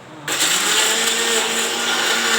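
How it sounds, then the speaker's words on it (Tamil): A kitchen mixer grinder blends kurma paste in a loud steady whirring drone that starts abruptly and holds at full power, with no talking. "இப்போ இதை நல்லா நைஸாக அரைச்சிக்குவோம்"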